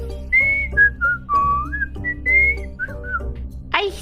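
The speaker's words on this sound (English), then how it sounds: "Why are you whistling?" A person whistles a short, wavering tune of several sliding notes close to the mic, ending with a brief noisy burst.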